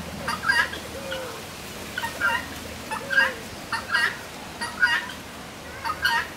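Large parrots call at Zoo Ave in Costa Rica, repeated raspy squawks and chattering bursts at irregular intervals, moderately distant over a low, steady outdoor background.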